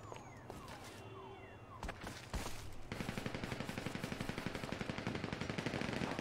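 Gunfire in GTA V's battle royale mode, scattered single shots at first, then a sustained rapid machine-gun rattle, steady and fairly close, with a little background voice.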